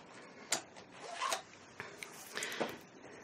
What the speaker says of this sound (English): I have to press down hard on this paper and you can hear it